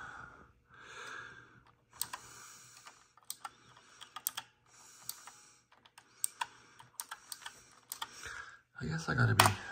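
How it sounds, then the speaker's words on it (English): Typing on a computer keyboard comes in short bursts of close, light key clicks, with a few soft breaths and sighs and a quiet steady hum behind it. "Keyboard."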